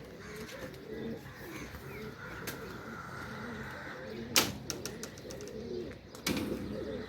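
Racing pigeons coo softly and repeatedly close by, with a couple of sharp clatters and a steady low background hum.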